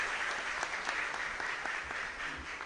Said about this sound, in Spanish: Fuerte aplauso para todos ustedes.